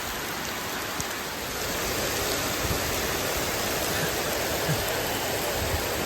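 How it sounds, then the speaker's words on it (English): Heavy rain pours down steadily in a dense, loud hiss, drumming on surfaces nearby without letting up. "We have another rain shower. Absolutely torrential."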